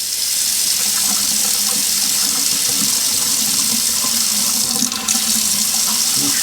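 A kitchen faucet runs steadily at full flow after being reassembled and greased, a continuous loud rushing splash into the sink with no pauses and no voices.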